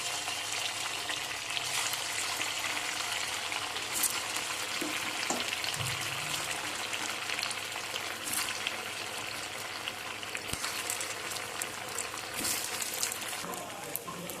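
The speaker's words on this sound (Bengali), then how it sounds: "লো টু মিডিয়াম ফ্লেমে আস্তে আস্তে এগুলোকে ভেজে নিতে হবে" Flattened rice and potato snacks frying in hot white oil over low to medium flame, a steady dense sizzle and crackle throughout, close and loud with no talking.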